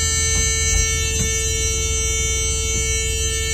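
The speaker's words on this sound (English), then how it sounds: "when I lift this handle up and push out, you'll hear a warning alarm that goes off" A school bus emergency exit warning alarm drones continuously, a steady harmonic electronic buzzer tone with faint clicks and clunks of the handle being worked underneath.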